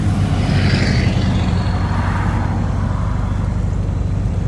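An air-cooled VW Thing engine, warmed up and running with a stick shift, labours as the car climbs a gravel hill. The motor holds a steady loud drone, with tyre and road rumble mixed in and no pauses.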